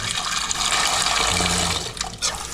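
Warm water is poured over balut eggs in a pot, a steady loud gushing splash that keeps going throughout, close up with no voices.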